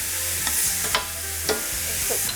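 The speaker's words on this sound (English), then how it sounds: "stirring occasionally until the mushrooms are brown" Mushrooms salted and frying in a pan give a steady close sizzle, broken by a few sharp scrapes of a utensil stirring them about once every half second to second.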